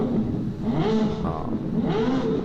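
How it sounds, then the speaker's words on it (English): A Ferrari 812 GTS engine revs repeatedly in the distance at a car show, its pitch rising and falling in drawn-out sweeps over a steady background rumble. "you're going to hear a car revving here in a second"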